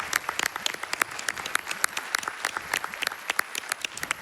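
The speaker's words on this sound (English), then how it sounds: "let's give him a round of applause." Steady applause from a small group at a speedrunning marathon event, brisk overlapping claps at an even level throughout, with no voices.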